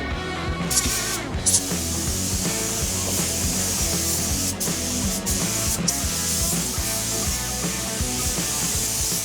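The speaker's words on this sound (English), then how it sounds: "We're just spraying on these axles" Spray painting offroad vehicle axles black: a steady, continuous spray hiss runs throughout, with faint mechanical hum and rattling underneath.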